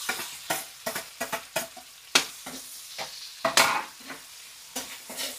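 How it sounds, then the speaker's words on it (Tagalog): Ginger and onion sautéing in a pan, with repeated sharp scrapes and clanks of a spatula stirring in an uneven rhythm over a soft, continuous sizzle, close and fairly loud. "Gugisa lang muna natin yan. Lagyan natin tong luya."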